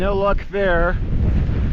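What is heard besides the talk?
wind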